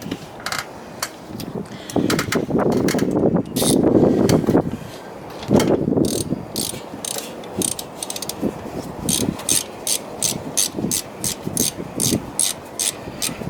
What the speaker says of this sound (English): Now we're going to go ahead and tighten it down.